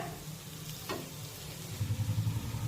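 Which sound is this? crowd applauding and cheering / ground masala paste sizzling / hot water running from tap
ground masala paste sizzling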